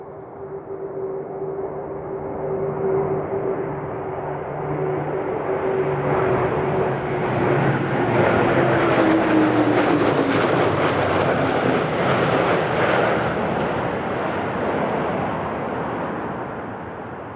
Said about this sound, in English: I'll let you enjoy the flyby of this awesome plane.